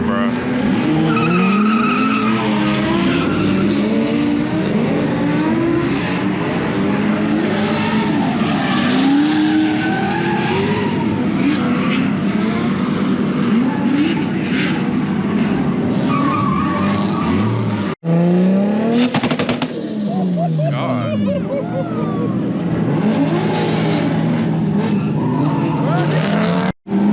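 Car engine revving and tires squealing at a car meet, with long howling skids and roaring exhaust, loud and close, while people talk and shout nearby.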